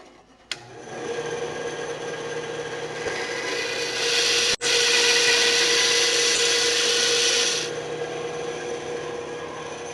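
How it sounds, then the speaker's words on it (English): A bandsaw trims the rough edges off a wooden board, its steady, loud cutting rasp running with only a brief break about halfway through. "Remember, when you're running the bandsaw, lower the guide to about 1/4 of an inch above your wood."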